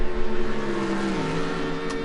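Audi R8 GT race car accelerating at Spa during a British GT race, a loud sustained engine note climbing steadily in pitch as it pulls out of a corner, close and without talk.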